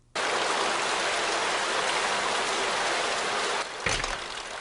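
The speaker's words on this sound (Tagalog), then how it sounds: "malapit na mapuno yung tubig ng bathtub." Water gushing steadily into a bathtub in a family home in an animated comedy, a loud continuous broadband rush with a brief shift near the end.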